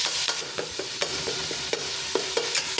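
Fatty 75-25 ground beef sizzles steadily in a hot pan, a dense close crackle broken by repeated sharp scrapes and taps of a utensil stirring the meat, with no voices.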